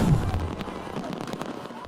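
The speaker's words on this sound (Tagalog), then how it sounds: "Nagliwanag ang kalangitan sa pagsabog ng fireworks display sa engranding Kapuso Countdown to 2026 sa Pasay City." New Year fireworks display bursting over the Kapuso Countdown to 2026 in Pasay City, a dense, continuous crackle of distant pops and booms with a loud rumble at the start.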